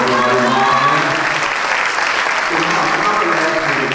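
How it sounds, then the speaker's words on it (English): Audience applause on stage at a fitness event, a dense steady clapping wash lasting throughout with some voices mixed in. "let's give him a round of applause, everybody"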